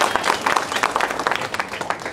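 An audience applauds at a Congress block committee political meeting in Rajaji Nagar, a dense, steady patter of many hands clapping throughout, with faint crowd murmur underneath.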